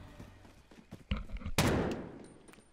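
Pistol shots in a video game gunfight, a few sharp isolated cracks, one louder blast about midway with a trailing rumble, amid quieter game noise and no talk.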